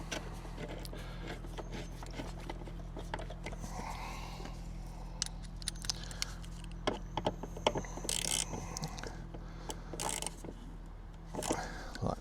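Ratcheting clicks and small mechanical taps while a bolt is tightened during fitting of a car horn on a MINI R50, R52 or R53, close and fairly quiet, in short irregular bursts with a steady low hum underneath.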